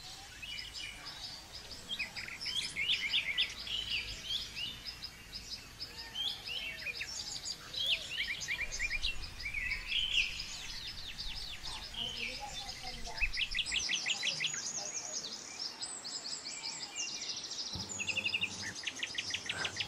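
Many forest birds sing and chirp at once in a dense, continuous chorus, with overlapping trills and whistles near and far, joined by a steady insect buzz; the low background thins out late while the birdsong carries on.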